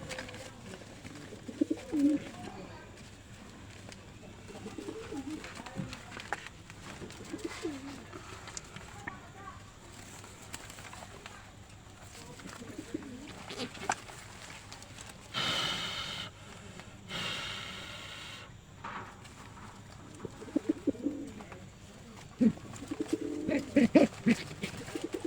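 Pet pigeons coo and snort close by while they are being vaccinated. The soft burbling calls come in scattered bursts, with handling noises and a person talking over them.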